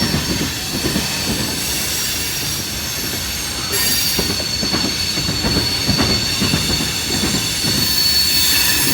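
A CSX mixed manifest freight train rolls steadily past in Fostoria, a loud close rumble of cars with rhythmic wheel clicks and faint squeals running throughout, without speech.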